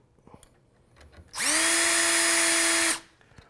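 A power drill whirs steadily for about a second and a half, loud and close, while removing screws from underneath the kick of a bathroom vanity, with a quiet room before and after.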